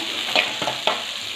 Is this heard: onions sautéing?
yes